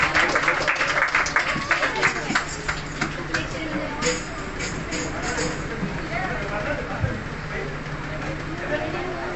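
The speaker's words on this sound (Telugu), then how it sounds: "అందరూ చప్పట్లు కొడుతూ ఆహ్వానిద్దాం." An audience at a PYPA fellowship meeting applauds to welcome a speaker: a dense patter of many hands for several seconds that then thins out, mixed with voices and room murmur.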